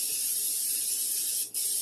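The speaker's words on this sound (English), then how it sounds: "Give it a generous amount of butter spray" Butter cooking spray hisses steadily from an aerosol can onto a Dollar Tree baking pan, one continuous close spray with a tiny break near the end.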